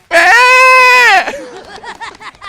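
A voice imitates a young goat bleating while suckling and being pulled back from its milk: one long, loud, wavering bleat, then shorter choppy bleating sounds trailing off.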